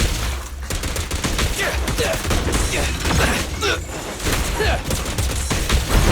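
Rapid gunfire in the video game Zenless Zone Zero, a dense, loud, continuous stream of shots and crackling impacts, with brief character voices mixed in.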